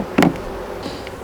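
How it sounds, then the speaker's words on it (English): A wasp buzzes near an open beehive in one short, close burst, followed by fainter insect buzzing in a quiet setting. "It's a wasp right there."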